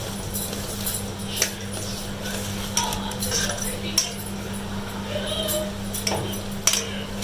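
Flour dough with oil and salt being mixed by hand in a metal bowl for kachori, giving soft kneading rustles with occasional light clinks of metal against the bowl, steady and close, under a low constant hum.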